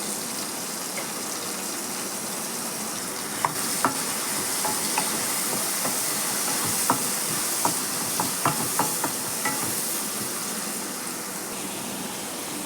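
Onions and tomatoes sautéing in a pan as the base for a prawn curry, a steady close sizzle and hiss with irregular scraping stirs of a spoon against the pan, no talk.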